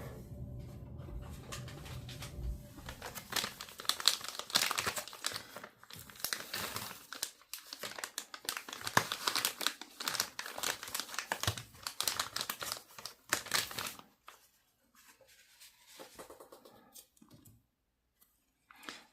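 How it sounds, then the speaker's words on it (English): Wipe rubbing and crinkling over a plastic binder sheet, a dense run of close scratchy swipes and rustles that stops, leaving near silence. "I'm going to get a little wipe here and I'm going to clean that off."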